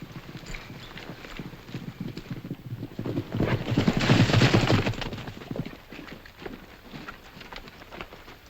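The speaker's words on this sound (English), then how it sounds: "Win, take care of that horse." Hooves clip-clop in a fast, steady rhythm, swelling louder as horses pass close and then fading back into the distance.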